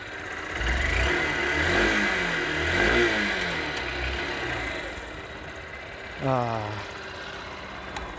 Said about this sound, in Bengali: তো তোমরা একবার এক্সস্ট সাউন্ডটা এনজয় করে নাও।